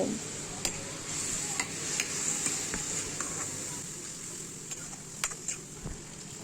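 Spice paste being stirred and sautéed over low heat in a pan for a Bengali banana-flower dish, a soft continuous sizzle with scattered scraping ticks of a spatula, fairly quiet, with no talk.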